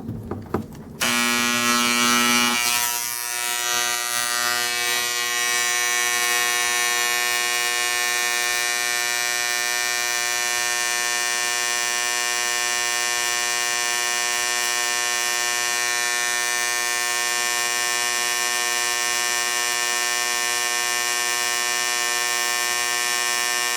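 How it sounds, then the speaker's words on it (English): A carbidizing tool buzzes against the tip of a Boker titanium pry bar. It holds a steady, loud electric drone with sharp tonal overtones, after a few brief scratchy contacts at the start. "What I'm doing here is carbidizing this top part first."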